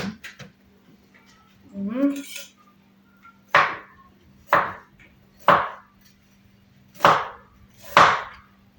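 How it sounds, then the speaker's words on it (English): A kitchen knife chops an onion on a cutting board in five sharp, evenly spaced strikes after a brief clatter, close and crisp, with a steady low hum underneath. "So to start off with, cut your onion."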